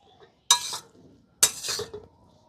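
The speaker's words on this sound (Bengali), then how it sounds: "এবার এগুলোকে একটুখানি 2 মিনিট মতন আমি একটু নাড়াচাড়া করে নেব" A spoon scrapes and stirs a spice filling for kachori frying in a pan, with two distinct bursts of scraping and light sizzle separated by quiet.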